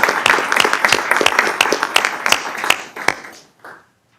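A room of people at a community college district board meeting gives a sustained round of applause, dense steady clapping with sharp individual claps standing out, which then tapers off and stops.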